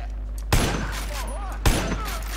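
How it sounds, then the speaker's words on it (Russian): Two loud gunshots from Far Cry 5, fired about a second apart, each a sharp close blast with a short ringing tail over steady game ambience. "Два выстрела и все."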